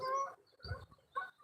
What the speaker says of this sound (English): It's a flock of wild goose in the geese, whatever.